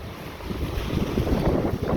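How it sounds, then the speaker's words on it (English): Strong wind blows by the water on the Biloxi shore, a loud, constant roar of microphone buffeting with surging gusts and no voices. "it's just a little bit windy"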